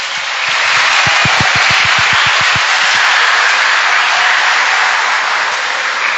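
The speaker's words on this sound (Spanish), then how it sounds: "Un aplauso para ustedes, mujeres." A church congregation applauds during a Sunday Lenten Mass, a broad steady wash of clapping that fills the space, with a few distinct low thumps near the start.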